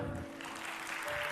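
A conference audience claps together in a hall, a faint, steady wash of many hands applauding throughout, with a low hum in the background.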